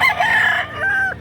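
A rooster crows twice in quick succession, close and loud, at a chicken market in Lipa, Batangas, with faint clucking and little else around it.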